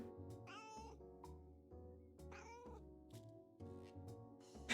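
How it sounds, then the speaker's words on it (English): A cat in a pet hotel in the House Flipper game meows repeatedly in drawn-out, rising cries, several in a row at close range, over a steady low musical background. "The cat crying behind me."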